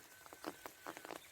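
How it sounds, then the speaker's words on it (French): Rain pattering on plants in a French vegetable garden, a soft irregular patter of drops close by, faint and steady with a few brighter hits. "Il pleut."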